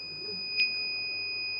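An Arduino anti-theft bag's buzzer emits a short, sharp electronic beep over a continuous high steady tone, with quiet background hum and no talking.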